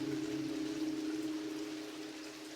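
Steady rain falling near a tricycle, a continuous even patter with a low hum underneath, fairly loud and constant throughout with no voices.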